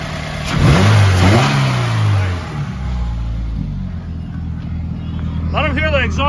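A 2015 Subaru WRX engine revs up sharply and loud, then settles into a rumbling idle, with a person speaking briefly near the end.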